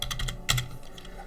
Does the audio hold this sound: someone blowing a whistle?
no